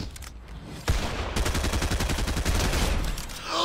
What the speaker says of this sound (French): Oh, encore le kill au pistolet.